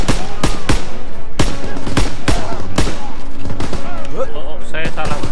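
Gunfire in the Call of Duty WWII Death Factory mission, loud sharp shots firing in quick irregular bursts, with speech-like game voices running underneath.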